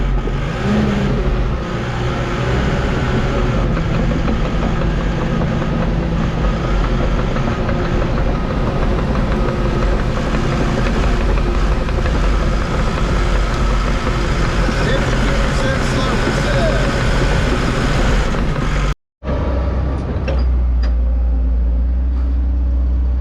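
A large excavator cuts back a hillside beside dirt-hauling trucks, and its engine drones steadily and loudly throughout with a brief cutout near the end, heard close up.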